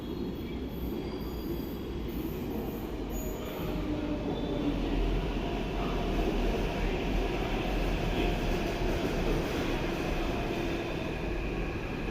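A Hyderabad metro train rolls past with a sustained rumble and a faint high wheel squeal, growing slightly louder toward the middle and holding steady, no talk over it.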